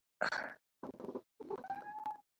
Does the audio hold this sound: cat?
yes